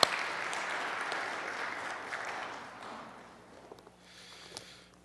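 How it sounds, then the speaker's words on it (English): A church congregation at First Presbyterian in Oxnard, California, breaks into applause that starts full and dense, then thins and fades over a few seconds, leaving scattered claps and room noise. "So let's applaud Alex and Raymond for that."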